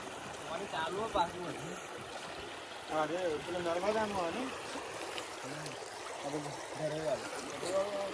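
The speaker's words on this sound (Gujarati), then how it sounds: "જો કેવું રખડીને પાણી આવે જોરદાર" Quiet water flowing from a pond trickles steadily in the background while people talk over it.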